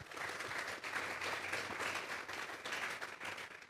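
A church congregation breaks into strong applause during a sermon: continuous, full-bodied clapping from many people, loud and close, with slight swells in intensity.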